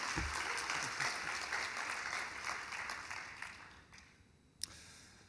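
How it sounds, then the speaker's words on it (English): A crowd at the Getty Research Institute claps steadily, then the applause thins and fades toward the end, punctuated by one sharp knock. "Please, the applause don't stop."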